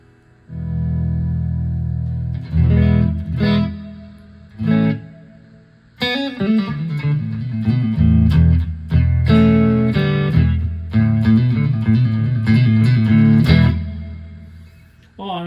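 An electric guitar through a LEKATO Tank-G effects processor into a Fender Twin amp set at 12 watts plays sustained chords and picked notes drenched in reverb, each strum ringing out and trailing off between phrases.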